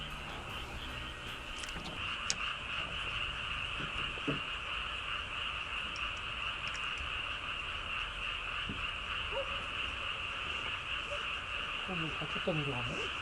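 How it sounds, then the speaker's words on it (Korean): Frogs croak in a continuous night chorus beside a fishing spot, fairly distant and even, with a few nearer calls and faint human sounds in the background. "개구리 소리 죽인다."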